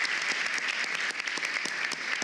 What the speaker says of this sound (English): Another round of applause for Tyler.